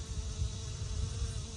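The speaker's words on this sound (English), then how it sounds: "it is covered in bees right now" Bees buzz steadily around flowering guara plants in a Texas summer garden, a soft continuous drone of several insects close by with no voices.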